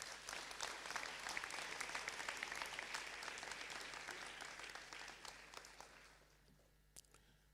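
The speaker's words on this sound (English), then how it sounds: "he deserves a round of applause" Audience applause at a graduation ceremony, a dense, steady wash of many hands clapping that tapers off near the end, leaving a few scattered claps.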